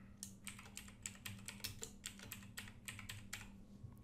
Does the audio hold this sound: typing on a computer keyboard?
yes